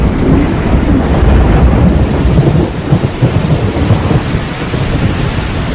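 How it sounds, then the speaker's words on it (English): Heavy rain pours steadily while deep thunder rumbles and rolls underneath, a dense, loud storm with no voices, in Katavi, Tanzania, during the short rains. "October brings the short rains."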